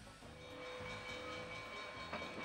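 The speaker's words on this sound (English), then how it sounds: "take the locomotive off the front of the train and run it around to the back" A locomotive and passenger train on the tracks at Steamtown National Historic Site in the Poconos, Pennsylvania, gives a steady low rumble with faint tonal whistle-like hums, continuous and fairly close, with no talking.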